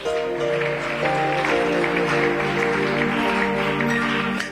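Church congregation applauding during a worship service, sustained dense clapping with a steady hum of voices and a held tone underneath, continuous and fairly loud throughout.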